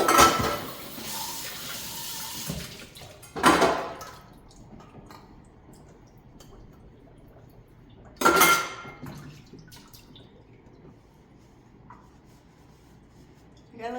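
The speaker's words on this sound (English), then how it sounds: "I like to do the pet dishes once a week just to really clean them" Pet dishes get washed in a kitchen sink: brief bursts of running water and clattering bowls break up long quiet stretches, with a few soft knocks in between.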